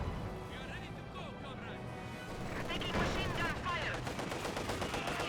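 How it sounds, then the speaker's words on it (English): Rapid machine-gun and rifle fire in the Company of Heroes 2 strategy game, steady crackling bursts building in intensity with explosive hits, under continuous commentary. "He's suddenly firing away."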